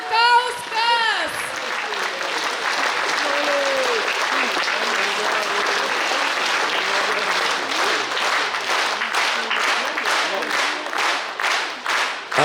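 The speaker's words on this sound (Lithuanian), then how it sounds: "jūsų plojimai" Warm applause from an audience for a men's folk singing group at a concert in Alytus, steady dense clapping that swells and carries on for several seconds after a voice speaks at the start.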